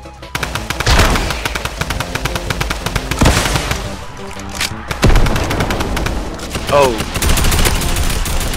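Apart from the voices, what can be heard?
gunfire in the video game Fortnite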